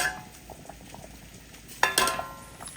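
Matta rice boiling in a pot over a wood stove, a soft steady bubbling with light patter, then a brief clatter of pot or utensil near the end.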